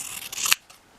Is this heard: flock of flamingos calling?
no